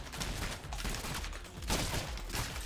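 Game gunfire in the video game Rounds, a rapid volley of bullets crackling in quick repeated bursts at low volume, steady and busy for a few seconds.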